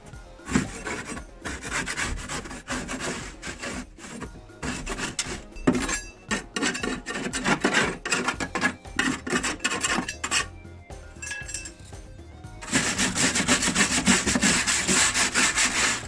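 A Hayter Harrier 48 lawnmower blade is sharpened by hand with a file, giving close, repeated rasping strokes in a steady back-and-forth rhythm, with a brighter, harsher scraping near the end.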